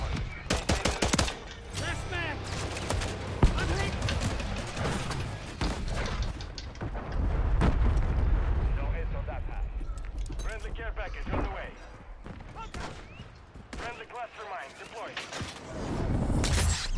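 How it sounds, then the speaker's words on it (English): Rapid bursts of automatic gunfire and single shots from Call of Duty Modern Warfare 3 crackle loudly and irregularly throughout, mixed with voices talking over the game action. "This guy keeps shooting up in the air."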